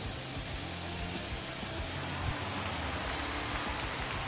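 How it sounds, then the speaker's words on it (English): Rain falls on a ballpark in MLB The Show 19, a steady, soft hiss of drops hitting surfaces that holds even and fairly quiet throughout, with no voices. "the conditions aren't ideal with the rain coming down"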